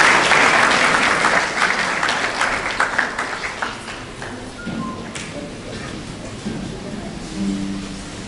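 A graduation audience at a high school ceremony breaks into loud, dense applause that slowly thins and fades over several seconds, with faint voices underneath.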